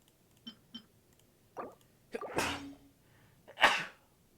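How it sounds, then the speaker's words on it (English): A rough human sneeze, preceded by a few small sharp intakes and sniffs, then two forceful explosive bursts close to the microphone in an otherwise quiet room. "That was like a really rough sneeze."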